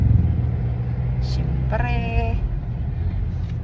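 Road traffic in the town centre of San Juan, Batangas, heard from inside a moving vehicle: a steady low engine rumble with a brief tonal horn-like sound midway, while someone speaks briefly.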